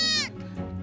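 A goat gives one loud, wavering bleat at close range inside a barn in a remote village in Kyrgyzstan. The bleat cuts off quickly and leaves faint low rustling and shuffling afterward.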